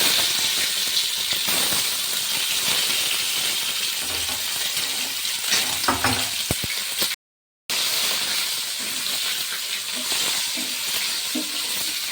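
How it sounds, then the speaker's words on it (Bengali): Continuous crackling sizzle of eggs frying in hot oil, with a few clinks and stirring noises, briefly cut to silence partway through. "ডিমগুলো আমি ভেজে তুলব, তেলে ডিমগুলো দিয়ে"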